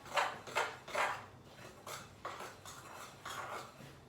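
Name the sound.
stirring a maple syrup mixture with a spoon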